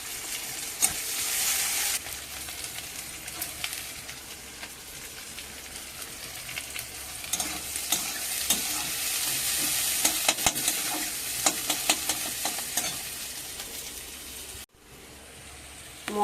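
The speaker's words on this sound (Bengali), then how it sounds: "মশলাটা কষিয়ে নিলাম।" Spice paste of green chilli, ginger paste and cumin paste sizzles and fries in a pan while being stirred, a steady crackling hiss with scraping stir strokes, close and continuous.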